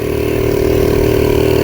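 A Skyteam ST50 50cc mini motorcycle engine idles at low revs, giving a steady, close, continuous puttering hum with no talk over it.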